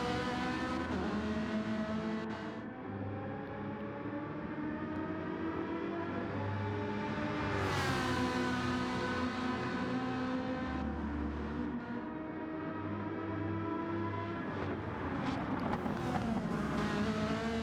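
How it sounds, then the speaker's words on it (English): Engines of race cars in a racing video game, a Corvette passing a Ferrari, drone and shift pitch continuously in a loud mix of overlapping revs. "Corvette passing the Ferrari."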